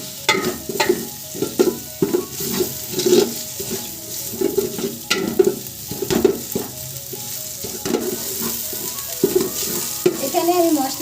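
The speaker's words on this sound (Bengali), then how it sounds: "এখন এগুলো মশলার সাথে ভালোভাবে কষিয়ে নিব।" Ginger and garlic paste with spices is fried for a duck curry, with a utensil stirring and scraping through the pan in repeated strokes over a low, continuous sizzle.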